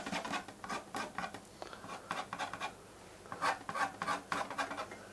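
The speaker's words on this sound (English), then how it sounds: "still scratching and scraping" A brush or tool scratches and scrapes acrylic paint during a loose fox portrait, making a quiet run of dry, rasping strokes in irregular bursts with short pauses between them.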